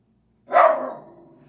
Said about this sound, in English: He was doing all his barking.